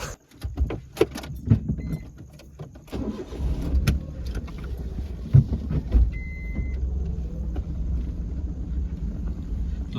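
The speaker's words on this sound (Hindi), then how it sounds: "दोस्तों अभी यहाँ से गाड़ी मुड़ा रहे हैं और चल रहे हैं आगे की तरफ।" A car turning around and pulling away on a narrow rural road, engine rumbling low and steady with a few sharp clunks and rattles near the start, close and continuous throughout.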